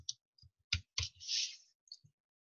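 Typing on a computer keyboard during an accounting lecture: a handful of crisp, isolated key clicks with a brief clattering run in the middle, close and quiet against silence.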